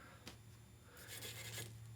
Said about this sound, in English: Sanding some of the stuff before I even wash it.